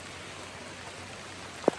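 Steady rain falls outdoors on a riverbank during salmon fishing, a soft, even hiss of drops with one brief louder tap near the end and no talking.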